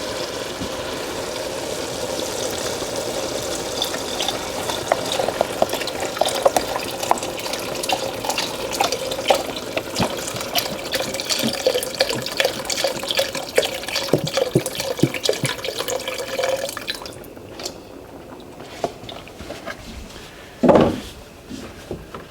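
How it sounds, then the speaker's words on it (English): Four cups of vegetable broth pour steadily into a soup pot for homemade vegetable beef soup, a continuous close liquid splashing that stops near the end, followed by one brief knock. "now we want to go ahead and add our 4 cups of vegetable broth"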